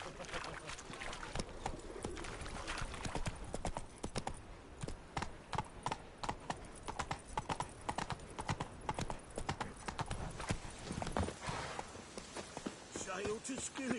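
A horse's hooves clip-clop in a steady rapid rhythm across a video game landscape in The Witcher 3 Wild Hunt, with birds and cooing doves in the background and a voice talking over parts of it.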